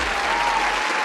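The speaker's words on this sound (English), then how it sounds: "Give her a round of applause." A loud, dense burst of applause from an audience during a news segment, a brief continuous roar of clapping close up.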